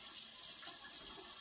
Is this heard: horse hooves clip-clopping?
no